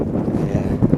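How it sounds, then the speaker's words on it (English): Wind buffets a microphone outdoors in desert scrubland, producing a steady, close, low rumbling roar with no voices. "I got this little goofball on here to get the wind noise down"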